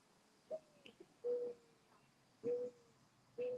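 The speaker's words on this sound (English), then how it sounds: "Birds chirping." Bird calls sound at a distance in a quiet outdoor setting, four short tonal calls at irregular intervals, each one a clear note that slides slightly downward, with faint soft clicks between them.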